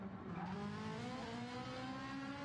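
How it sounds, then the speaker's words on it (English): A race car engine in a racing video game revs hard and continuously, its rising whine loud and up front for a couple of seconds with no talk over it. "Revving out that car sounds so great."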